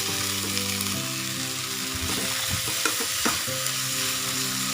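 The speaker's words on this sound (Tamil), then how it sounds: "நல்லா வதங்கட்டும்." Fennel, cinnamon, cloves and poppy seeds are sautéed in a pan, giving a steady sizzle and scraping stirring strokes midway, over background music.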